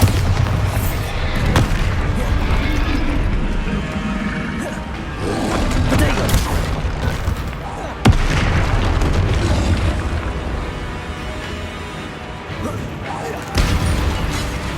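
Bombarda blasting spells in the Hogwarts Legacy video game, a run of loud booming explosions and crashing impacts with sharp bursts near 1.5, 8 and 13.5 seconds over dense rumbling game noise.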